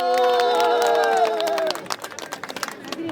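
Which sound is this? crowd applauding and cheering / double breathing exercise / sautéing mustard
crowd applauding and cheering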